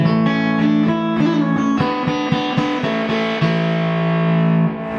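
A loud electric guitar through a Baby Bactrian miniature Red Llama distortion pedal plays a run of sustained, heavily distorted notes and chords with gritty saturation, ringing out alone.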